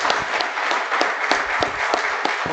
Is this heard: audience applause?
yes